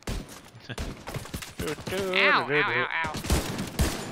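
Rifle fire in The Division 2 rattles in quick bursts of sharp shots, mixed in with ongoing conversation and a brief pained exclamation.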